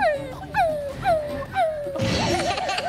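Voices mimic a dog's whimpering in a series of four rising-then-falling whines, followed by a burst of laughter and chatter.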